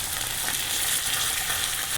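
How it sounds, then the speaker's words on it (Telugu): Asafoetida and curry leaves crackle and sizzle steadily in hot tempering oil for a lentil chutney, a close, continuous frying hiss with no voices. "ఇలా వింగువ కూడా వేసుకొని కరివేపాకు వేసి వేయించుకొని"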